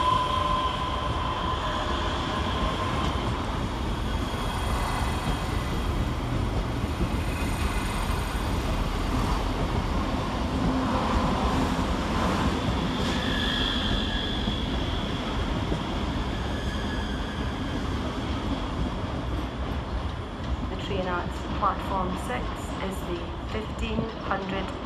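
ScotRail train at Edinburgh Waverley railway station, a continuous rumble of engines and rolling stock echoing under the station roof, with station announcements heard over it throughout and faint squeals and clanks near the end.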